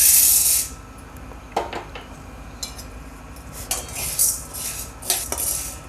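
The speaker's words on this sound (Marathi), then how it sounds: "आपली कढई तापली आता आपण याच्यात डाळ टाकून घेऊ" Dal is dropped into a hot kadai and stirred, with a burst of pouring at the start followed by scattered metallic scrapes and clinks of a spoon against the pan.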